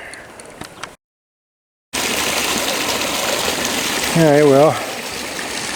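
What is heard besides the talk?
water flowing into a shrimp pond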